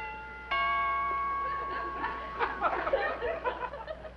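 A single doorbell chime rings out clearly and decays, followed by soft chuckling and murmured voices.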